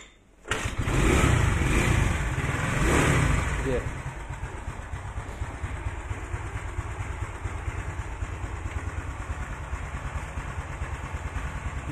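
A kick-started Honda Beat motorcycle with a custom camshaft and carburetor starts with a burst of revving, then settles into a steady, close, slightly uneven idle, with speech over the engine.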